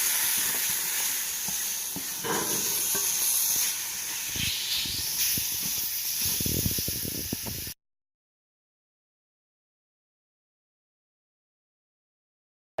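Chopped onions and celery tossed into a hot gumbo roux, giving a loud, steady hiss and sizzle for several seconds that then cuts off abruptly into silence.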